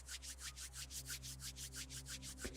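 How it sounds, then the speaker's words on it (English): Hands rubbing together in a calm guided movement session, a soft, steady swishing friction repeated in quick even strokes, close and quiet over a low background hum. "Rub the hands together."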